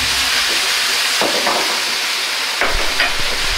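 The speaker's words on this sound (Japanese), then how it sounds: "ここから強火で焼き付けていきます。" Mapo tofu sears in a pan over high heat after a splash of sesame oil, giving a steady loud hiss with a few brief scraping stirs, close by and alone.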